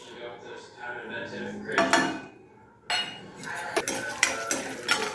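Urad dal tipped into hot oil in a pan while cooking a bottle gourd chutney: a clatter of the lentils hitting the metal, then a steady close sizzle with scraping and stirring noises.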